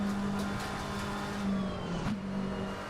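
Racing cars in a racing video game at Donington Park Circuit, heard as a steady sustained engine drone with a brief rise in pitch partway through, fairly loud and continuous with no talk.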